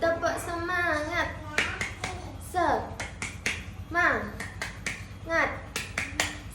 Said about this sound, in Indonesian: Kita akan melakukan tepuk semangat ya, biar kalian lebih semangat lagi.